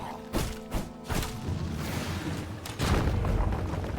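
Booming thuds and crashes from a boss's explosion attack in the video game V Rising, in its Gloomrot update. Several sharp impacts land in the first second and a heavier blast rumbles near the end, over a continuous noisy game background.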